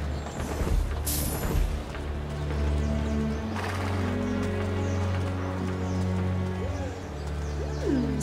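In the video game Assassin's Creed 2 on PC, horse hooves clop alongside a couple of brief whinnies near the end. Birds coo and chirp in a steady outdoor ambience beneath them, at a moderate level.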